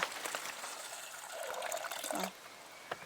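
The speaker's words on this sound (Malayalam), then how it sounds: "ഇനി നമുക്ക് ഇത് മുങ്ങ ഒന്ന് വെള്ളം ഒഴിച്ചു കൊടുക്കാം" Water is poured from a vessel over jackfruit seeds in a cooking pot, a steady, close splashing stream lasting about two seconds before it stops abruptly, followed by a couple of faint drips.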